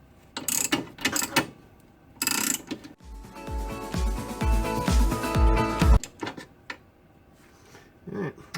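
A ratchet wrench with a 12-point socket works a rust-seized, partly rounded front end link nut on a Mazda MX-3. It makes a few sharp clicks, then three seconds of loud, rapid ratcheting with heavy knocks, and lighter scattered clicks after.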